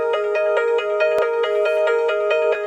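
A soft synthesizer pluck layer plays a steady run of short, evenly spaced tonal notes, bright and sustained, with one sharp click partway through and no talk.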